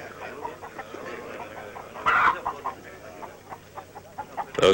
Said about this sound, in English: They are chickens, amigos.